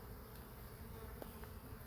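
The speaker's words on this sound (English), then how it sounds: "there's a lot of bees" Honey bees buzzing at a calm hive, a faint continuous hum with no voices.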